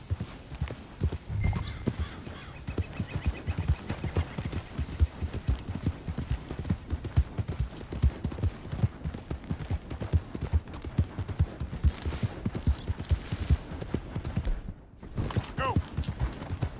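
Horse hooves pound in a fast, steady galloping rhythm in the video game Red Dead Redemption 2, continuing loud and unbroken throughout, with a brief whinny near the end.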